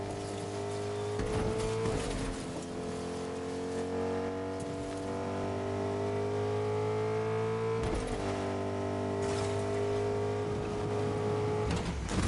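A car in the video game Fortnite drives with a steady engine hum that rises in pitch as it accelerates, broken by a couple of abrupt shifts and bumps, with no voices.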